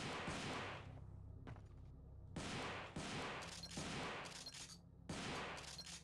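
Shotgun blasts in a video game come as four heavy booming shots spaced about a second apart, each with a short decaying tail, loud and without talk.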